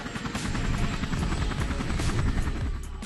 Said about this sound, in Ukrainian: Вертольоти відпрацювали по ворожих позиціях з метою їх подавити.